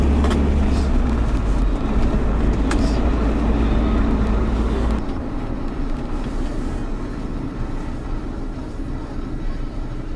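A car running with no engine oil gives a loud, continuous low rumble of engine and road noise while driving. The drone is heavier during the first half, then steadies at a slightly lighter tone.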